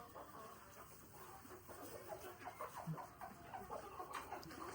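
Hens cluck in soft, scattered bursts against a steady background hum, with several birds calling close by.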